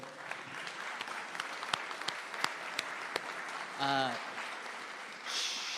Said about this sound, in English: if we could give them a round of applause for all the work they did